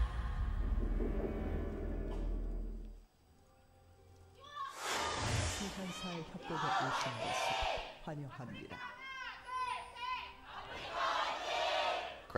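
A studio audience at an LCK League of Legends esports match between SKT and AFS cheers and roars, with a low rumble first, then a brief lull before loud, sustained crowd noise with shouting voices.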